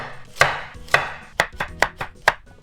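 A knife cuts carrot into pieces on a board with crisp, close chops: two slower strokes, then a quicker run of four, with no voices.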